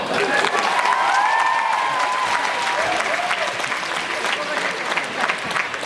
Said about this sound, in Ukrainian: Оплески Святославу!